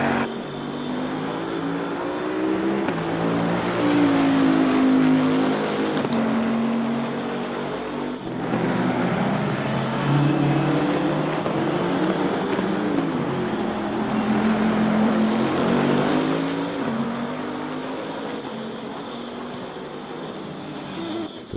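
GT race cars circle Zolder in a racing video game, their engines droning loudly and continuously with rising and falling pitch as cars pass and shift.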